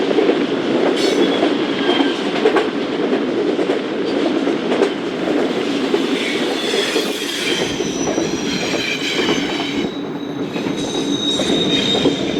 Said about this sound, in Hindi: लोकोमोटिव कोल वैगन्स को इस कोल प्लांट में लेके जा रहा है